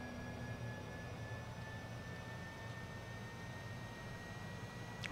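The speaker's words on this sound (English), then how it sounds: "As we said, we are starting the right engine." Faint, steady jet turbine whine with a high thin tone as the right engine of a Cessna Citation CJ4 spins up in Microsoft Flight Simulator 2020, holding at low volume throughout.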